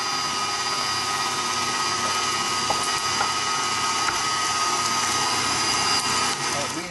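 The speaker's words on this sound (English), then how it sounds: "We've just finished grinding our meat, and it's a pretty good grind." An electric meat grinder works through meat for homemade chili, giving a loud, steady mechanical whir that runs unbroken from start to finish.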